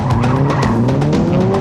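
Toyota rally cars skid through handbrake turns, a loud continuous tyre squeal and engine roar close by, with no talking.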